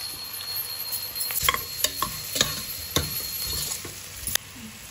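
Vegetables soften in a pan of oil and ghee as spices go in, with a quiet sizzle under a run of sharp scrapes and clicks from a spoon stirring against the pot.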